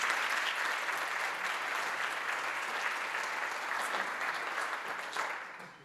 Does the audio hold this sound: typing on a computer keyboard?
no